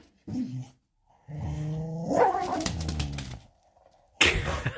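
An Irish terrier growls over a toy: two bursts of close, loud, rumbling growls with rising snarling tones, separated by short silences and ending in a sharp snarl.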